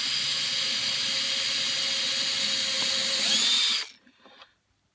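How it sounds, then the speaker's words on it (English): A power drill spins steadily at high speed with a bright whine for several seconds on a workbench, then winds down and stops. "pop it in your drill, try and get it spinning as you should"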